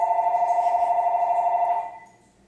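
A telephone rings with a single sustained electronic trill, warbling steadily for about two seconds before cutting off, clear and fairly close in an otherwise quiet room.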